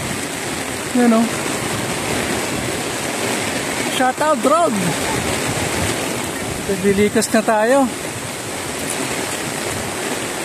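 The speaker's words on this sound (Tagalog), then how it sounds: "Third alarm na dahil lakas ang ulan." Heavy rain and the swollen Marikina River in Marikina City rush in a loud, steady broadband roar throughout, while people shout and talk over the torrent.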